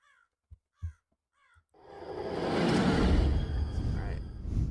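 In the video game Rise of Insanity, a crow gives three quick harsh caws in quiet surroundings, then a swelling windy rush of noise takes over and holds steady to the end.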